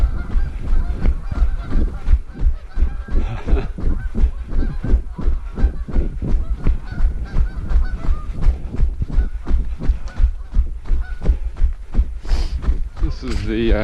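A flock of geese honks continuously and loudly near a lake on a Prairie Oaks trail, over the rhythmic thud of running footsteps, with a brief voice near the end.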